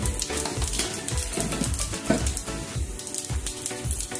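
A spoonful of whole cumin seeds sizzles in hot oil with whole garam masala, a loud close crackle and spatter with sharp pops and faint stirring clinks throughout.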